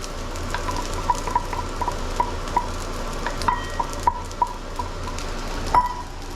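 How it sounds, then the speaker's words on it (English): Scallions are tossed and stir-fried with rice in a pan for bacon and egg fried rice, giving a constant sizzle with a series of light metallic ticks and scrapes from a spatula, close and clear, no talking. "we'll just toss those at the rice until they become a little fragrant"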